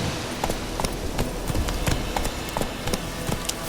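Roach the horse gallops in The Witcher 3, hooves striking in a steady, quick clip-clop rhythm over a constant low ambient bed, close and moderately loud with no talking.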